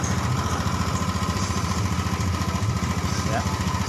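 A Honda Beat ECO scooter engine idles steadily at about 1600-1700 RPM, with a low, even, pulsing putter that runs continuously and up close. A voice talks over it.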